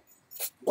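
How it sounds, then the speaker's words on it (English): A pet dog growls indoors, two short, close, low rumbling bursts in under a second, heard alone. "Now she's going to growl for you guys."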